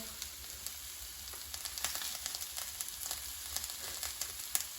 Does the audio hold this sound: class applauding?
no